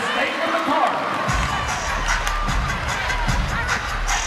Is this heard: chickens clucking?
no